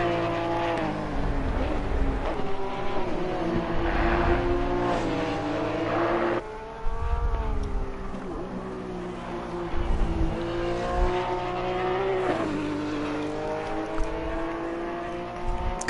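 Race cars in the Assetto Corsa Competizione racing game, engines loud and close, revving up and down through gear changes with some tire squeal, continuous over the whole stretch.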